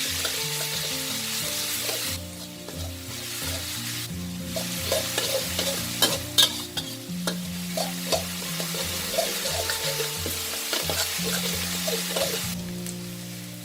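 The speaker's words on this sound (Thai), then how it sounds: "น้ำมันร้อนนะแล้วก็ใส่ หอมแดงค่ะ" About 60 grams of pounded shallots fry in hot oil in a pan, with a steady close sizzle and repeated scraping stir strokes over soft background music.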